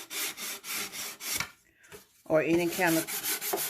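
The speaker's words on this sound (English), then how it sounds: "use my sanding block to sand the top and the edges" Sanding block rubbing over a wooden cigar box lid and edges, a steady back-and-forth scraping in repeated strokes, close and fairly loud, with a short pause midway and a few spoken words over the later strokes.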